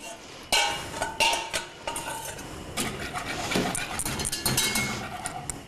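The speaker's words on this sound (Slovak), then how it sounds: "Stále miešame, aby nám zo spodu neprihorel." Thick pudding is stirred in a pot, a spoon scraping and clinking against the metal in repeated uneven strokes, close and fairly loud, with no talking.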